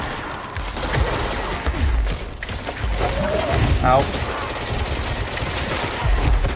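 Gunfire in the video game Control: bursts and rapid shots crackling through a busy firefight. A player's voice briefly cries out over the loud, continuous action.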